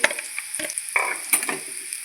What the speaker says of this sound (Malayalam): ഉള്ളി മുളകൊക്കെ നന്നായി മൂത്ത് വന്നിട്ടുണ്ട്.